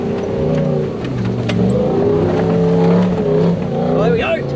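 A BJ40 Land Cruiser with a 1UZ engine and manual gearbox revs on slippery mud to fling it from its tyres, the engine surging and falling repeatedly, with voices talking over it.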